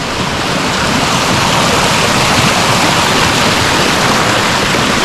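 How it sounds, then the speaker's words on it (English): Waterfall on the GR131 hiking trail on Gran Canaria, a steady, loud broadband rush of falling water that roars unbroken and close throughout, with no voices. "The waterfall up there."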